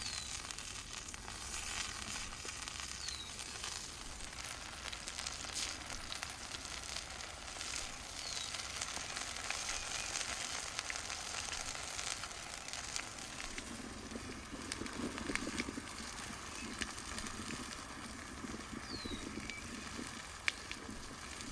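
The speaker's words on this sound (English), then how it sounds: "I add some corn oil and send our potatoes to fry until golden brown" Potatoes fry in corn oil outdoors, a steady close sizzle and crackle that runs throughout with a slightly busier patch midway.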